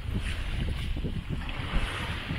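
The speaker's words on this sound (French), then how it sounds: "toujours en navigation sous voile depuis 8h15 ce matin" A sailboat running under sail at more than six knots on a beam reach during an open-sea crossing between Sardinia and Corsica: steady wind rush and sloshing water against the hull, a continuous close wash with no voices.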